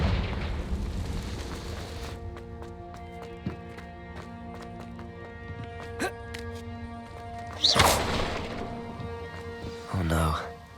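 Confringo fire spells cast in the video game Hogwarts Legacy burst as two loud, booming explosions toward the end, over a sustained musical drone with scattered clanks and impacts.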